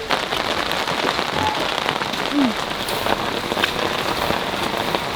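Steady rain falls on surfaces outdoors, a dense continuous patter of drops at close range with no talk, loud and even throughout.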